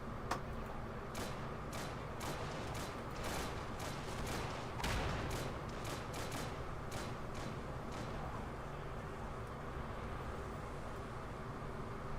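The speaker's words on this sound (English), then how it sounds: "Pseudo is using the boy's AT rifle to engage infantry" Weapons fire in a tank combat video game, including a Boys anti-tank rifle, comes as a fast run of sharp, moderately distant cracks over constant engine rumble and background noise, bunched in the first half.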